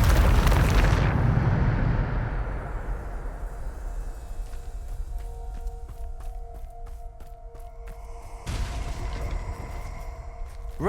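The Bombarda blasting spell in Hogwarts Legacy erupts as a massive, booming explosion that fades into a long rumbling tail with debris, and a second burst of crumbling noise comes later.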